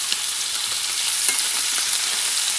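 A thin steak sizzles steadily in a hot pan with cut rosemary, pan juices spooned around it, a dense continuous crackle with small stirring clicks and no voices.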